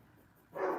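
A neighbor's dog barks in the background, one short muffled bark arriving abruptly after a quiet stretch, distant and fairly faint.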